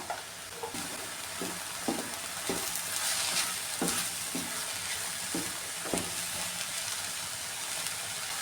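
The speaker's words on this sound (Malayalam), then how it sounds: "ഈ ഉള്ളി ഈ ചെറിയ രീതിയിൽ ഒന്ന് വഴറ്റിയെടുക്കാമേ മഞ്ഞൾപൊടിയും കൂടെ ചേർത്ത് കൊടുക്കുവാണേ" Sliced onions with salt and turmeric sizzle steadily in a pan for an onion thoran. Spatula scrapes and stirs recur about once a second over the continuous frying hiss.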